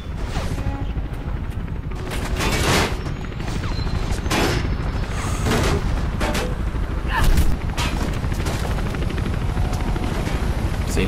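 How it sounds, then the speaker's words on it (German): Helicopter rotor noise from the video game Mirror's Edge, a steady loud chopping drone running throughout, with scattered sharp gunfire-like bursts and brief speech mixed in. "Der Helikopter schon wieder, weißt du?"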